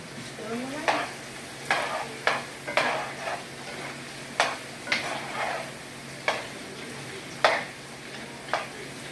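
Burritos stirred in a frying pan, with a steady sizzle of frying underneath and a dozen or so sharp scraping and knocking stir strokes spread irregularly across the clip, close and fairly loud.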